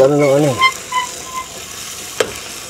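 An egg fries in a pan at a solo cemetery campsite and starts to burn, with a faint, steady sizzle under brief tonal sounds and a sharp clink near the end.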